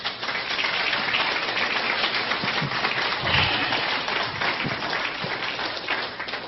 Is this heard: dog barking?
no